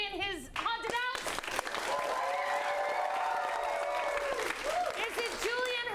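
A studio audience claps loudly to vote for a director's movie, with sustained applause and some cheering that swells and then fades, while a host's voice speaks over the start and end.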